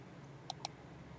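Two quick, crisp clicks of a computer mouse, close but faint, with nothing else but a quiet room.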